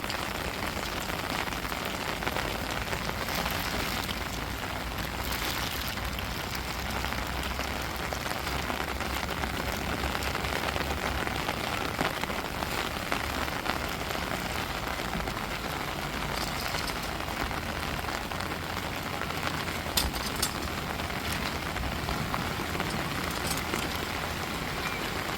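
Heavy rain pours steadily in a village, a dense, constant hiss of drops on surfaces that stays loud and unbroken throughout with no voices.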